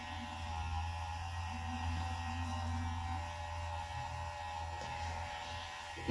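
An Esperanza sonic facial cleansing brush runs with a steady, moderately loud electric buzz and hum throughout, with no speech.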